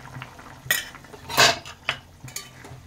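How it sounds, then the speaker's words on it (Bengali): Spoon stirring mustard paste into a pot of aamshol fish curry, a few separate close clinks and scrapes of metal against the pot with quiet gaps between. "হালকা করে নাড়িয়ে নেব"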